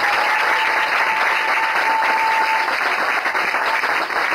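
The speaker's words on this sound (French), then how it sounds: "Je veux que tu acclames le Seigneur pour ses paroles." A church congregation at an evangelism campaign applauds, filling the room with dense, continuous clapping that holds steady for several seconds with no clear speech on top.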